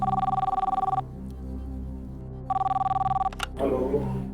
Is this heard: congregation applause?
no